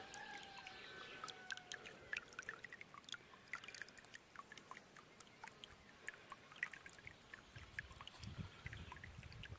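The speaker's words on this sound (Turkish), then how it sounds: "Buradan da çeşmemizin yukarıdan gelen suyu, fazlalık suyu. Görüyor musunuz nasıl güzel akıyor." Overflow water from a village fountain in the Turkish countryside near Ayancık, Sinop, running steadily outdoors: a continuous soft trickling and splashing flow with scattered bright droplet ticks, moderately faint, with no talking.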